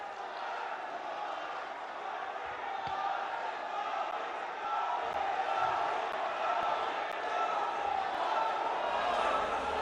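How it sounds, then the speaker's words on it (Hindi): A large crowd at a Prime Minister's event in Bihar, held for laying foundation stones of development projects, claps and cheers in a dense, sustained roar that swells toward the end, with an amplified voice running underneath. "दोनों हाथ ऊपर करके जोरदार तालियों के साथ स्वागत करें हमारे माननीय प्रधानमंत्री"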